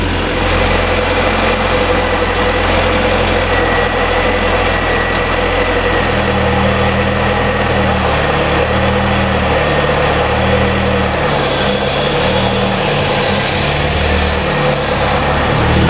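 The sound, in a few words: Ford Mustang engine idling at high rpm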